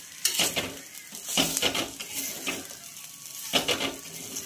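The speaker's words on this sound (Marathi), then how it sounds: "छानपैकी याला असं फ्राय करून घ्यायचं आहे" Soya crush sizzles in a pan with red chilli, salt and turmeric while a spoon stirs and scrapes in bursts, the frying moderately loud and close.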